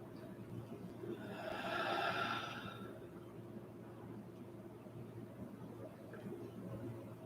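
Slow, deep breathing during kriya yoga: one long, soft, airy inhale swells and fades over a couple of seconds, then quiet room noise remains, all very faint and close.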